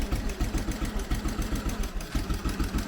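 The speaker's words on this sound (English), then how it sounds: "Sound like something very old being just started." Old Triumph two-stroke motorcycle engine from around the 1920s or early 1930s idling at a classic motorcycle show, a steady loud pulsing throb with a rapid irregular firing rhythm throughout.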